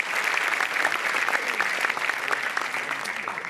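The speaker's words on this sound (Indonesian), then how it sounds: "Kita beri tepuk tangan yang meriah dari Jogja" An audience at a stand-up comedy open mic applauds loudly and continuously, a dense wash of many hands clapping with faint crowd noise mixed in.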